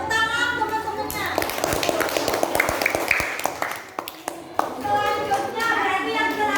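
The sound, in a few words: children clapping for classmates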